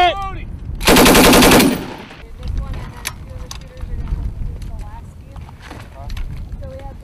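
An M240B machine gun fires a loud, rapid burst outdoors in wind, lasting under a second. Afterward come scattered clanks and distant voices of people talking.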